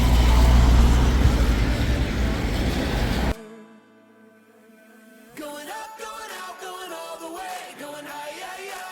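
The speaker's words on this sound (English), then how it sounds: "That train coming up." A loud, roaring rumble of a train passing at Plumstead station fills the first few seconds, then cuts off abruptly, leaving quieter tonal sounds.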